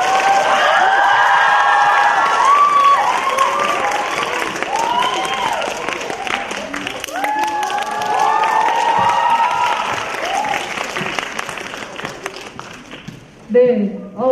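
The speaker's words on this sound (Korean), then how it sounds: "지금 나오시니까 큰 박수 부탁드릴게요" A nearly full large cinema at the Bucheon film festival erupts in sustained applause and cheering as guests take the stage, a loud, dense wash of clapping, whoops and shouts that holds steady before thinning out near the end.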